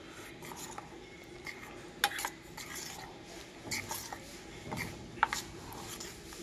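A spoon works spice paste into fish in a bowl, giving quiet repeated scraping and clinking with a few sharper taps against the dish, close and soft, with no talking.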